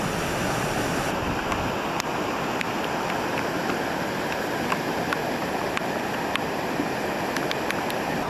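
A flooded river rushes under a bridge in South Canterbury, a dense continuous roar of churning water, loud and close, with no voices over it.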